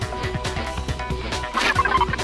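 Chicken clucks from the Danganronpa video game, a quick run of rhythmic, gobbling cackles that grow louder and busier toward the end, with no talking.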